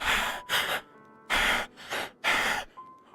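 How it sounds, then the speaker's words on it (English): A Doki Doki Literature Club character breathing, a close series of four sharp, loud gasping breaths separated by short quiet gaps, with a faint steady tone between them and no talking. "Do y'all hear this bitch breathing?"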